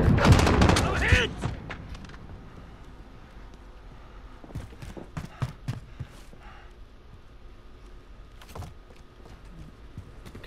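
Gunfire from a gun in the video game Modern Warfare: a loud, dense burst of shots at the start, then scattered, sharper single reports and short bursts spread through the rest of the clip.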